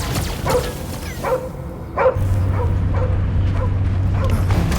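A dog in the Guardians of the Galaxy video game barks in several sharp yips, then whimpers over a low steady drone of game ambience, close and loud.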